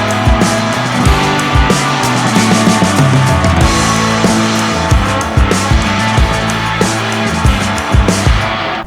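A brushed-motor RC rock crawler grinds over rocks, its electric motor whining loudly and continuously as the pitch rises and falls with throttle changes, with no talk.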